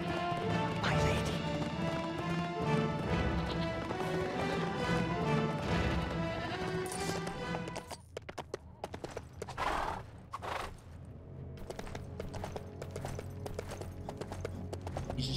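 Horses galloping in LEGO The Lord of the Rings game, clip-clop hoofbeats and whinnies under a full orchestral score, then a quieter stretch of hooves, crashes and thuds as the music drops away.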